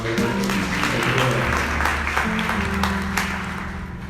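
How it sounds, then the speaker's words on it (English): An audience at a university sermon claps: a steady, dense round of applause that holds for several seconds, with a low tonal hum like organ or music playing beneath it. "So give a round of applause."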